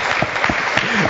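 Audience applause at a panel discussion in Bratislava, a dense steady wash of clapping hands filling the room, loud and continuous with a few faint voices mixed in.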